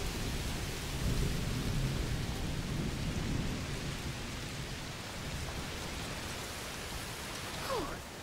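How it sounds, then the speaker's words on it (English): Heavy rain and a rumbling thunderstorm in the video game A Plague Tale Requiem, a dense steady downpour with low rolling thunder throughout, fairly quiet with no one talking. "It's raining a lot."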